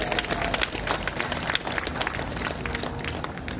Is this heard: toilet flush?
no